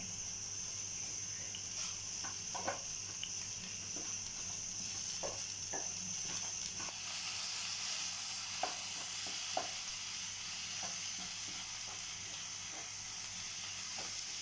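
Continuous sizzling of spices frying in a pan, with occasional scrapes and taps of a spoon stirring, steady and close.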